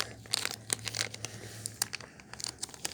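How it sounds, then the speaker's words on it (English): A plastic bag holding a Sonic the Hedgehog toy is opened at close range, giving a burst of crinkling and tearing rustles in quick, uneven bursts. "He's still in the bag, so I'm just gonna quickly open the bag."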